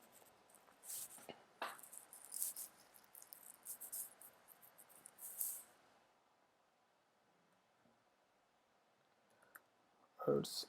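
Quick clicks of a computer keyboard, typed in bursts while HTML code is entered, then a pause and a louder final cluster of keystrokes.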